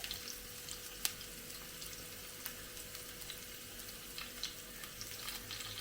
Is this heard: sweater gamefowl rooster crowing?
no